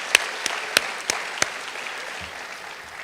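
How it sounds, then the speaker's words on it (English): Applause from the audience at a high school senior awards ceremony, a steady crowd clapping with a few sharper, louder claps standing out near the start, with no voices over it. "How about a round of applause for you folks,"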